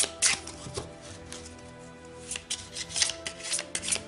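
Tarot deck shuffled by hand in a quiet room, with several quick riffling bursts and soft card slaps close up, some louder flurries separated by brief gaps.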